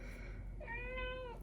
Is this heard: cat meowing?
yes